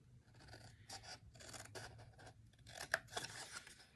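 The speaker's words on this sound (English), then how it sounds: "these snips are amazing" Craft snips cut away a paper rectangle for a Halloween paper project, giving a string of quiet crisp snips and rustling paper scrapes, close up with no talking.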